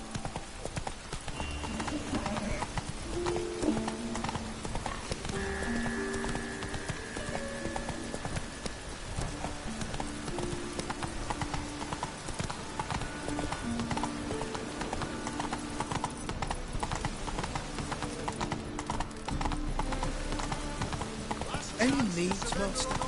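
Horse galloping in a PS4 video game, a steady clip-clop of hooves under game music and ambience, continuing throughout at moderate level.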